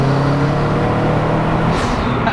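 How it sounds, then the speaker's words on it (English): A Subaru WRX STI turbo engine drones loudly and steadily nearby, with a rushing whoosh of intake air swelling toward the end. "You can actually hear the turbo and the intake more than the exhaust."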